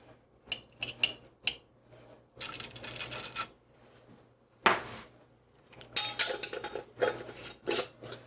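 Tablespoon of black peppercorns poured into a pot: bursts of small hard grains rattling and pattering against metal, clustered in several short showers separated by near-silence.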